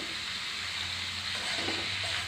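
Steady, close sizzling of chopped vegetables frying in hot tempering oil, a continuous crackling hiss with a slight swell near the end and no voices.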